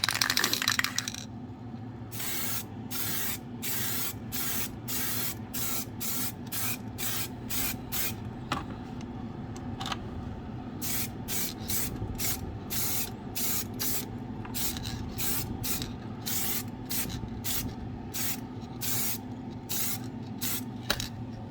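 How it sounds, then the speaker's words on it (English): Clear coat being sprayed over candy crystal paint, heard as a long series of regular, close bursts from a spray gun, each short hiss separated by brief pauses over a steady background hum. "we're going to give it a couple of coats of clear coat and make it pop even more"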